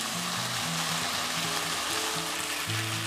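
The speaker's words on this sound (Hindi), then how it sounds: "ये हमारा चिकन जो है अच्छे से ये गल गई है और फ्राई हो गया" Chicken pieces sizzle and fry steadily in a pan while being cooked for chow mein, a close, continuous crackling hiss with no pauses throughout.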